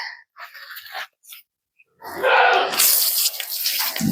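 Running water splashes continuously over a goat being shampooed and bathed, a steady close wash after a few brief, quieter bursts of handling sounds.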